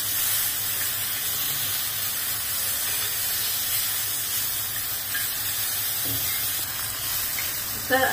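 Tomatoes and onion roasting with coconut in a pan give off a steady, close hiss of sizzling that runs unbroken throughout, with faint clinks near the end.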